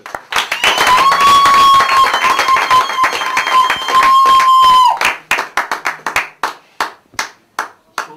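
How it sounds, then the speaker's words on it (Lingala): A church congregation claps together, loud, fast and dense at first with a sustained whistle-like tone over it, then thinning into scattered, slowing claps. "Acclamons le Seigneur."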